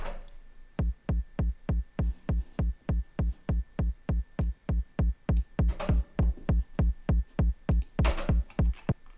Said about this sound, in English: So this is like a techno kick.